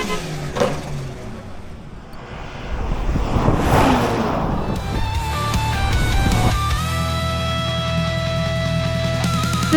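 An Audi SQ5 accelerates hard down a drag strip, its engine note climbing loudly in pitch with a brief gear shift, while distant crowd and track noise sit underneath.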